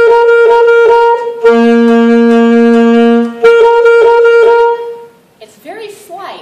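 A saxophone holds one steady pitch using alternate fingerings, its tone color shifting subtly between sustained notes, loud and close, before it stops and a voice begins talking.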